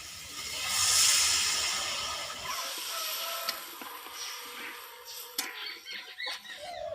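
Water poured into sizzling fried spice paste for a Bengali fish curry sets off a loud steamy hiss that swells and then fades into softer bubbling, spitting and a few light clinks of a utensil.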